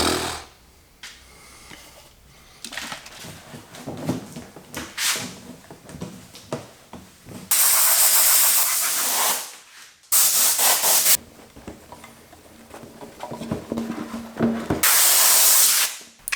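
Compressed air blasting across a car body panel of a rebuilt Porsche 996 Turbo after bug and tar remover is wiped off, with loud sustained bursts separated by quieter rubbing and handling noises, no talk.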